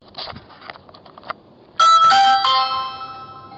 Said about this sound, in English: That's him ringing the doorbell